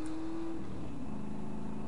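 A car driven in the video game GTA San Andreas, with a steady engine drone and a sustained tone that shifts pitch partway through, close and continuous throughout.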